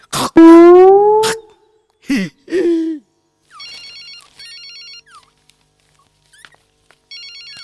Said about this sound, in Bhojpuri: संपत लाल के फोन